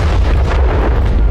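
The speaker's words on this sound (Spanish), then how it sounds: "Otra explosión en niveles inferiores generó un ascenso repentino de Titán" A deep explosion in the middle of a dramatized audio story, a sustained low rumbling blast that fills the whole moment with heavy, loud bass and no voices over it.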